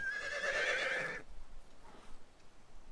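A horse neighs loudly in the Ancient Empires strategy game, one long whinny lasting about a second, then quieter rustling and faint hoofbeat-like sounds.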